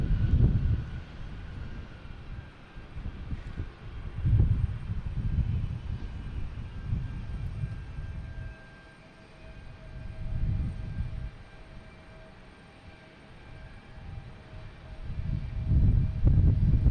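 JetBlue Airbus A321 jet airliner arriving from Sarasota at Boston Logan Airport, a low rumbling engine roar swelling and fading in waves under steady wind noise, heard from a distance with no talk.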